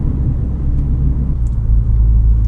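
A 2018 MINI Clubman JCW with a 2-liter four-cylinder twin-power turbocharged engine drones steadily inside the cabin, a dense low rumble of engine and road noise with no voices.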